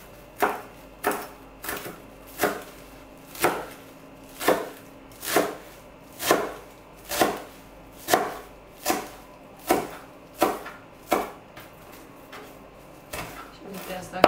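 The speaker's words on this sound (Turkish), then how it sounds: "maydanozu da küçük küçük doğrayacağım" A knife chops a bunch of parsley on a board for a pickled pepper dish: about twenty crisp, evenly spaced strikes, close and clear, slowing slightly near the end.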